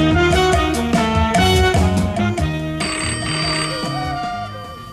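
A telephone rings with loud, close, repeated electronic tones in a crime drama, as a call comes in from a phone booth, the ringing pattern continuing steadily for several seconds.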